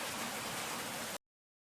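Rain falling outdoors, a steady, even hiss that lasts about a second before cutting off abruptly.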